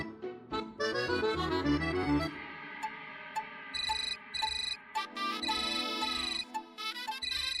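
A phone ringtone plays as a bright, musical electronic melody with repeating chimes, loud and continuous with no talking over it, in a Marathi TV serial scene.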